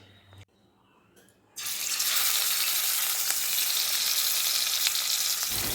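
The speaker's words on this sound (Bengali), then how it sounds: "এদিকে মাছ ভাজা হচ্ছে" Fish frying in a home kitchen pan, a loud broad sizzle bursting in after a quiet start with a few faint clinks, then holding steady and close to the end.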